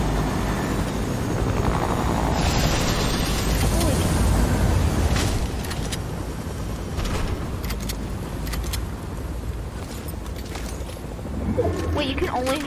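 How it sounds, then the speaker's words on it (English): A video game helicopter makes a steady, loud rotor and engine drone, heard throughout with occasional clicks and clatters, and a player talks over parts of it. "Oh wait, I saw my chopper."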